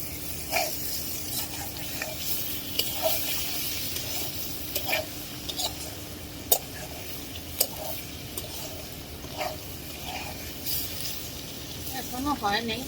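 Bitter gourd fries in a pan with a quiet, steady sizzle, broken by repeated light scraping and tapping as it is stirred, with a brief louder clatter near the end.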